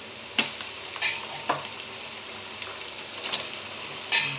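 Chicken pieces stirred and fried in a pan for a curry, a soft sizzle broken by several sharp scraping and clinking strokes of a utensil against the pan.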